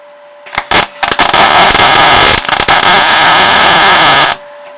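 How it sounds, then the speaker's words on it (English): Welding rasps out as a loud, close, steady crackling buzz after a few short sputtering starts, then holds for about three seconds before cutting off. "I'll give it another weld up this end."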